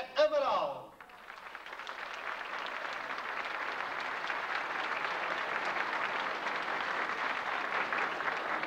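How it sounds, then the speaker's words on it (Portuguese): Following a brief burst of speech, a band audience applauds the conductor José Amaral, a sustained, moderately distant wash of clapping that holds steady to the end. "Um aplauso para o maestro José Amaral."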